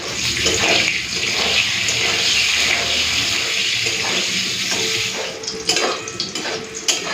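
Eggplant slices frying in hot oil until deep red-brown, giving a loud, continuous close sizzle that thins into uneven crackles and spatters near the end.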